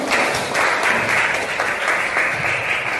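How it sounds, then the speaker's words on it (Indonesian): Sustained classroom applause at the end of a student teaching presentation, a dense, even, loud clapping that continues without break. "Tepuk tangan."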